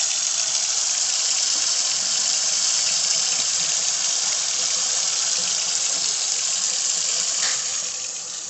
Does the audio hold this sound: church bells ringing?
no